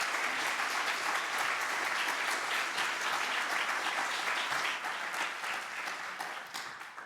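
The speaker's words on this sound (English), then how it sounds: "Please give another massive round of applause." Sustained applause from a seated audience at an animal welfare discussion forum, dense and steady clapping filling the hall for several seconds before gently tapering off at the end.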